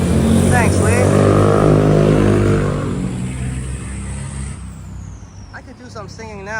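Heavy street traffic roars past on a morning in Phuket Old Town, a loud engine swell that fades away, with a voice speaking over the din.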